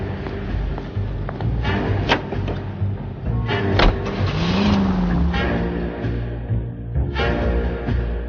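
A car engine hums and revs steadily while being driven in L.A. Noire, with shifting engine tones, a brief rising whine and scattered knocks or clunks over continuous road noise.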